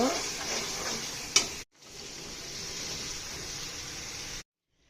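Taro stolons are stirred into mustard paste frying in a pan, producing a steady hiss and sizzle with a sharp utensil clink partway through, a brief break, then continued sizzling before it cuts off.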